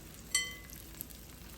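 Stew beef sizzling in a hot frying pan, a soft steady frying hiss with a brief sharper crackle near the start and a small pop later, close and alone without talk.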